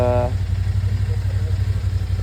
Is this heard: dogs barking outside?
no